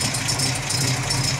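A Ford 1600 GT fitted with a V6 Capri engine and a 5-speed gearbox idles with a steady, fairly loud mid-range engine hum and a faint knocking texture, heard close up with no voices.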